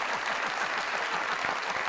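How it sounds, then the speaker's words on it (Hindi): Audience applause on a Pakistani comedy talk show, steady clapping from a studio crowd that holds at an even, moderate level for a couple of seconds with no voices over it. "तालियां दो।"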